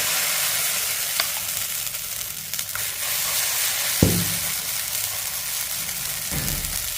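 Dosa batter with carrot and onion poured onto an oiled hot tawa, giving a steady close sizzle throughout with a few brief scraping clicks.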